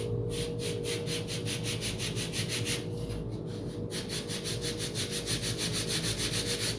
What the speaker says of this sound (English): from here we'll just lightly sand